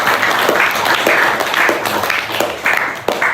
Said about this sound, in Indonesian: Tepuk tangan buat diri kita sendiri